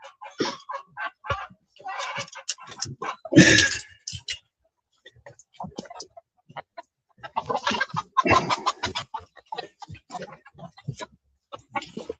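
Roosters and hens cluck and crow inside a chicken coop in bursts, close and fairly loud, with a person talking between the calls.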